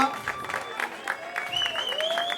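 Audience applause and cheering at a women's arm wrestling medal ceremony, steady clapping with whistles rising partway through, an announcer's voice faintly underneath.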